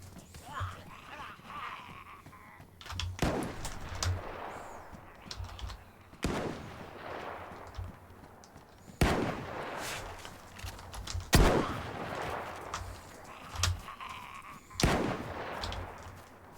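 Gunshots in the DayZ video game on Deer Isle: several sharp, loud reports spaced a few seconds apart, each with a short ringing tail, set over a low ambient background.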